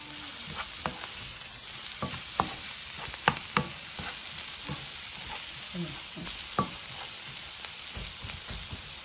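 Chicken fried rice with pepper, soy sauce and onions sizzles steadily in a pan, with sharp stirring scrapes and clicks punctuating the continuous hiss.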